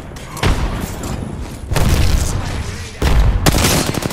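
A frag grenade going off in a multiplayer shooter game: loud, booming blasts arriving in a few heavy thuds with rumbling tails, no voices over them.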